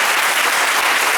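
A church congregation applauds loudly for Jesus during a service, a thick, continuous wash of clapping from many hands at close range.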